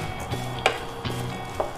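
Chopped carrots and beans frying in a pan for Bengali-style fried rice, a soft continuous sizzle with a few light clinks of stirring.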